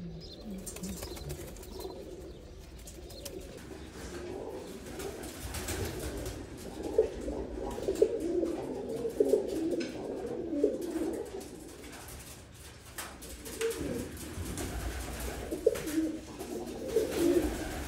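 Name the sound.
pigeons cooing in a loft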